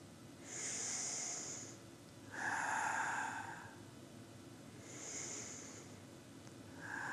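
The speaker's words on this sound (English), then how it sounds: "Exhale down." Slow, soft breaths drawn in and let out during seated adaptive yoga, three or four airy, close exhales spaced about two seconds apart in a quiet room.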